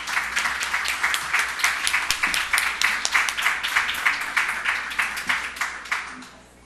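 Audience applause welcomes a speaker at a Latin American education talk, a modest crowd whose individual claps are distinct and rhythmic at close range, then taper off and fade out near the end.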